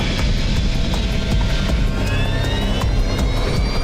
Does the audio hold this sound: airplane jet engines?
yes